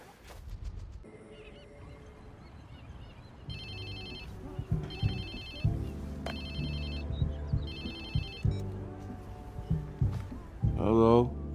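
In the Watch Dogs 2 video game, a phone rings in repeated bursts of electronic ringing among low game sounds and effects, and a voice comes in near the end.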